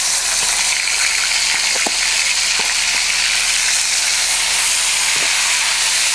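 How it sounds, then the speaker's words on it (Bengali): Chopped tomato fries in a hot pan with a loud, steady hiss and sizzle, with a few faint scrapes and stirs through it and no talking. "এটাকে আমি একটু ভেজে নিচ্ছি।"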